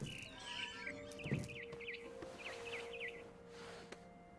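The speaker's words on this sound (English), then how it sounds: "It was a barn swallow going back to her nest" A barn swallow chirping in the game What Remains of Edith Finch, a series of quick, faint repeated tweets over a low ambient hum, the bird sounding somewhat distant.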